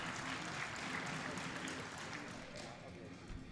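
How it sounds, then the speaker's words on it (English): A big arena crowd at a world equipped open powerlifting championship cheers and stomps for a Danish lifter stepping onto the platform, a dense, continuous roar with a thundering low rumble that eases slightly toward the end. "you can tell when there's a Danish lifter on the platform. Yeah, the floor starts to thunder"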